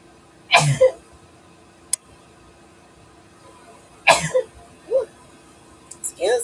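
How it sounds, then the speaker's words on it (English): Two sharp sneezes, each a sudden burst followed by a short gasp, with a faint click between them and small breathy sounds at the end. "Oh my gosh, I already got a sneeze."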